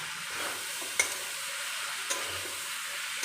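Tomatoes get stirred in a hot cooking pan, with a soft continuous sizzle and a few light scrapes and taps of the spoon, close and moderately quiet.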